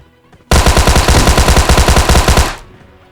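A rapid burst of automatic gunfire in the video game PUBG Mobile: loud, evenly spaced shots in one continuous two-second volley that cuts off abruptly, with no speech over it.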